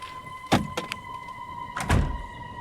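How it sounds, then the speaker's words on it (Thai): Door sounds in a horror video game, with a door opening and then closing: two separate clunking thuds about a second and a half apart, each with a short rattle, over a steady electronic hum. "เสียงคนปิดประตู เปิดปิดประตู"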